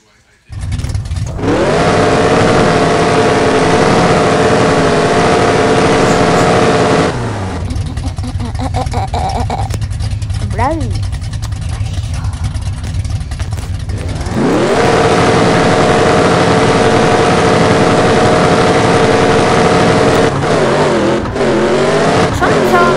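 Car engine in a racing video game, loud and sustained as it revs up through rising gear pitches, drops off briefly mid-run, then roars back into another climbing rev during a race against a truck, with a voice talking over it.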